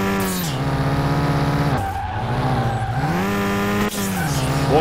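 Mitsubishi Lancer Evolution in Car Mechanic Simulator 2021 sliding sideways: a loud, continuous engine drone with tires skidding, the pitch dipping and rising as the car scrubs off speed, with no voices.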